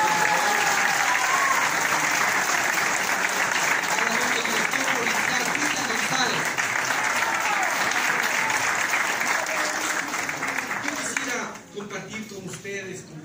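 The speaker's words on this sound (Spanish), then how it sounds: "Un aplauso." A crowd applauds loudly and continuously for several seconds at a political rally in Ecuador, with some voices mixed in, before the clapping fades out near the end.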